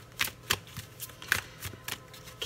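Tarot cards shuffled close by in quick rhythmic bursts, six or seven crisp flutters spaced evenly, fairly soft, with no speech.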